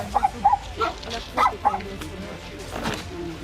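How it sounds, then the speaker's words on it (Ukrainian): Small dog, one of two dogs kept alongside several cats, yipping and barking in short bursts, fairly close, with some talk-like sounds mixed in. "Собака"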